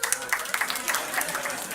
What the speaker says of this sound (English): give yourselves a round of applause for coming out and supporting live comedy here